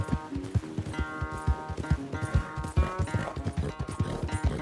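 Horse hooves in Red Dead Redemption 2, a steady, close clip-clop of repeated hoofbeats at a trotting rhythm, with no clear whinny standing out.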